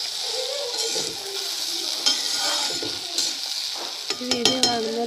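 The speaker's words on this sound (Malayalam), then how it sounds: "നമ്മൾ ഇളക്കി കൊടുത്തിട്ട് മൂടി വെക്കുക." Curry being stirred in a cooking pot, a steady broad sizzle with scraping stir strokes and a few sharp clinks of a spoon against the pot toward the end.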